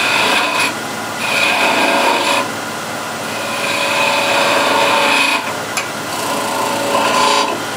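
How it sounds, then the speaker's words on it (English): A skew chisel cuts a cove and bead into spinning walnut on a lathe, a loud, close scraping rasp that swells and eases in repeated passes of a second or two each. "Now I'll do the cove and the bead with a skew chisel"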